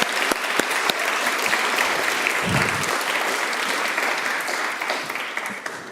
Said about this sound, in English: Please give them all a round of applause for helping bring this together.